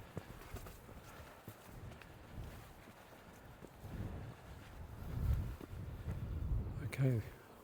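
Strong wind buffets the microphone on top of Bray Hill near Trebetherick, a steady rumbling gust with louder surges toward the end, heard outdoors with no clear talk over it.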